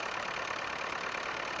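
A Power Major tractor engine idles steadily, a continuous even drone with no change in pace, fairly close and alone.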